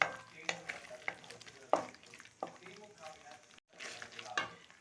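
A spoon scraping and stirring bread halwa in a pan, with soft sizzling underneath, giving irregular scrapes and knocks over several seconds with a short pause near the end.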